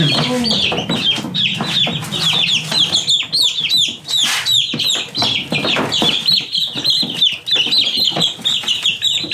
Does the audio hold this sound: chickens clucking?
yes